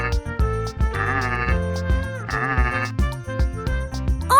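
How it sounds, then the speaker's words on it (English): Farm goats bleat repeatedly and loudly, with long wavering cries overlapping and recurring in close succession. "Mischievous goats are the acrobats of the farm, climbing everything in sight and serenading us with their delightful bleats."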